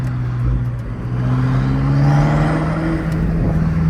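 Turbocharged BMW M5 Competition engine running with exhaust pops switched off, a loud sustained drone that swells slightly midway, with a faint rising whine and no talking.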